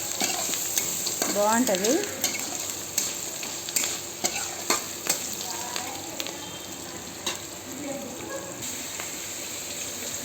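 A spoon stirs salt into a dish in a pan, giving soft scraping and clinking strokes over a steady sizzle, with a few sharper taps; a voice speaks briefly in between.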